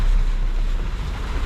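Water sloshing and slapping against a boat hull in a marina, a low continuous churning mixed with gusty wind buffeting the microphone.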